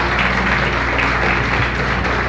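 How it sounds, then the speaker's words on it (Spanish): A church congregation applauding during a morning service, a dense, steady wash of clapping that fills the whole stretch without a break. "Dale un aplauso al Señor en esta mañana"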